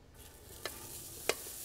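Vegetables dropped into a grill wok over a moderate gas or charcoal grill at about 350 degrees hiss with a faint, steady sizzle, punctuated by two quick sharp clicks as pieces land.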